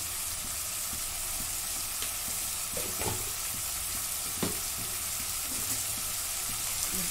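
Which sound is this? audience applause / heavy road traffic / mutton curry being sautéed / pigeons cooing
mutton curry being sautéed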